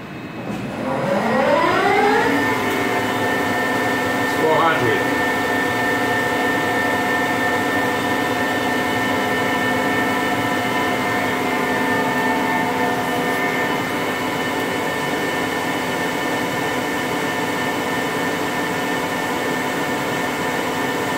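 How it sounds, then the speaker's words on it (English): A Milltronics ML-35B hollow spindle lathe spinning its spindle up to 500 RPM, a rising mechanical whine that settles into a loud, steady tonal hum with motor drone, alone and continuous throughout. "Turn the spindle. 500 RPM, Mike."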